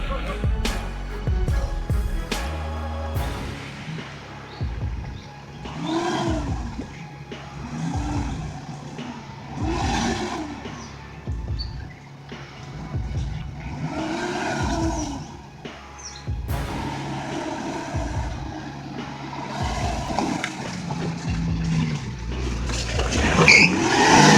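A heavy truck loaded with coconuts revs hard, its wheels spinning and stuck in slippery mud on a country road; the engine surges and falls in repeated bursts, with faint voices and some tire squeal.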